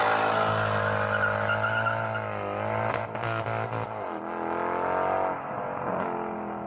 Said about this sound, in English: what sets the mood more than a German V8 throwing you back in the seat?